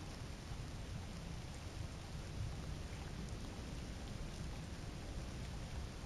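A storm in the Voices of the Void video game brings steady rain that hisses evenly, with low rumbling underneath, sounding fairly quiet and continuous with no speech.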